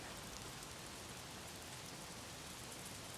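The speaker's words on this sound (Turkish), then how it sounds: "Şu an mesela yağmur efekti de çok şahane." Steady rain falls in the video game Days Gone, a dense, even hiss of drops on surfaces that holds at a constant moderate level from start to finish, with no voices.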